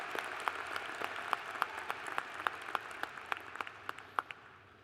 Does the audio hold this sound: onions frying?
no